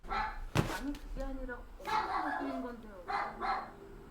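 A dog barks repeatedly indoors in a room, sharp yapping bursts that grow more insistent, mixed with people talking nearby.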